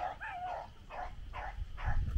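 A pack of beagles bays while chasing a rabbit, giving a series of drawn-out, rhythmic howling bays at a moderate distance over low background noise.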